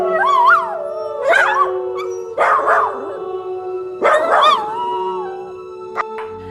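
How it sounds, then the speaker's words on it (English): A dog lets out a series of high-pitched yips, barks and howling whines in several bursts, close by, with short pauses between them. "It then eagerly responded with high-pitched barks and yips."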